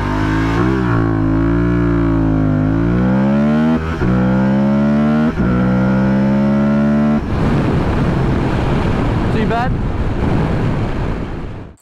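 Aprilia Tuareg 660 adventure motorcycle with a 660cc parallel-twin engine accelerating hard off-road, ABS and traction control off, loud engine note climbing through several rising gear pulls, then a rougher, noisier rush of wind and road noise near the end.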